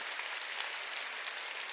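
Applause from a church congregation at a Sunday worship service, a dense, steady wash of many hands clapping together throughout, loud and continuous with no talk.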